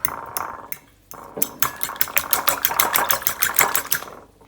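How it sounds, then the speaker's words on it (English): Eggs beaten by hand in a bowl, a rapid run of sharp, regular clinking taps up close that starts after a few scattered knocks and carries on steadily with no one talking. "And now just beat the eggs up."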